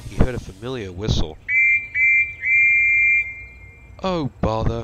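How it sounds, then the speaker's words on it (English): A steam locomotive whistle sounds in three blasts, two short toots then one long sustained note, between bursts of cartoonish speech before and after. "he heard a familiar whistle"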